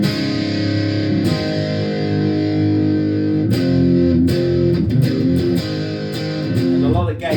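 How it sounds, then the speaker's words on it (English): Single-coil electric guitar played through a Xotic AC Plus overdrive pedal on channel A with the gain at full, giving a thick, saturated distortion with sustained chords and quicker picked notes, loud and close with no talking. "So if I turn the gain up on full, I still don't get no unwanted noise from a single coil guitar."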